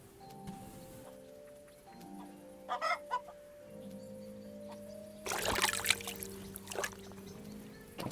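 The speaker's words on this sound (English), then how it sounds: "Chickens." Chickens cluck in a farmyard in the video game Kingdom Come: Deliverance II, a few short bursts of clucking at low level against quiet ambient background sound.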